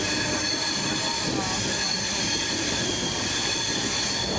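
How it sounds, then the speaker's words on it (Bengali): The 18047 Amravati Express rolls onto a road-cum-rail bridge, its wheels squealing steadily in a continuous high metallic screech over a constant rumbling roar of the carriages, heard close from on board. "দেখো আমাদের ট্রেন অলরেডি উঠে গেছে রোড কাম রেল ব্রিজে।"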